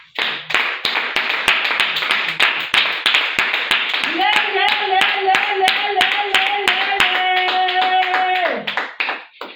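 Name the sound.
congregation applauding the Lord in church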